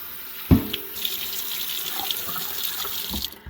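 Water runs from a tap in a steady stream, with a brief clunk near the start and the flow continuing throughout.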